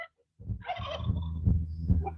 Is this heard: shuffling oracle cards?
no